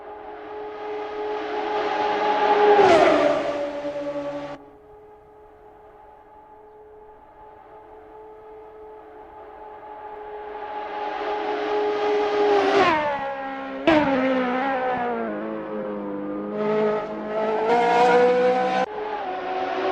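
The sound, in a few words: Radical SR3 race car engine on Nordschleife outlap, racing video game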